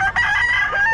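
A two-year-old Hatch Gray gamefowl rooster crows once, loud and close, a full ringing call that fills the whole short moment.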